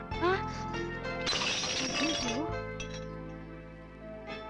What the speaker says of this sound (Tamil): நீ போட்ட சத்தத்துல ஊர்காஜ் அடியா உடைஞ்சிருச்சு.